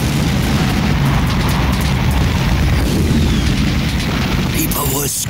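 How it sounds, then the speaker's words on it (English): A sound effect of distant explosions and cannon fire forms a loud, dense, unbroken rumble of booms and blasts that rolls on without pause for several seconds. "In the distance, explosions and cannon fire could be heard."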